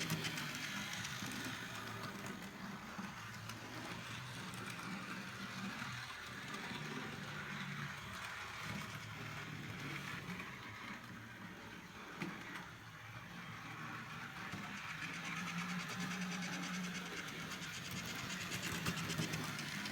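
An OO scale Heljan class 14 model locomotive runs fast along its track with a steady, continuous whirring hum and faint rail clatter throughout, with no one talking.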